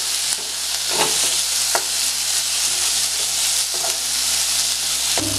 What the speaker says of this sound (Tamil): தக்காளி நல்லா மசியற அளவுக்கு வதங்கணும்.